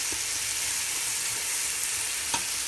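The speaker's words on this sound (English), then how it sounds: "So let the tomatoes cook for 2 more minutes, and then we'll add all the spice powders." Tomatoes sizzle and fry in a pan for mutton biryani, a steady soft crackling hiss with a few light stirring clicks, heard alone without talk.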